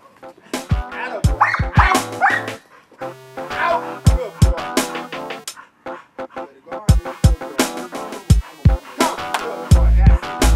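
Guard dog barking repeatedly on command during protection and obedience training, a series of sharp, loud barks and yips in bursts, with a handler's voice giving short commands in between.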